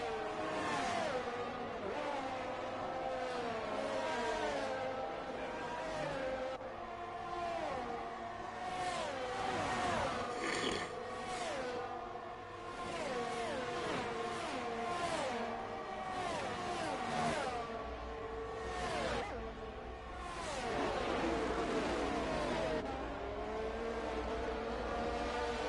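Race car engines howl in a racing video game as an Alfa Romeo chases another car, shifting pitches rising and falling through gear changes, several cars close together at steady volume with no one talking.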